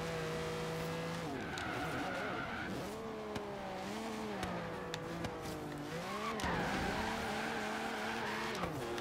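A classic Lamborghini in the Forza Horizon 3 racing game slides and skids with steady tire squeal under a rising and falling engine note, close and continuous, with a few brief shifts in pitch.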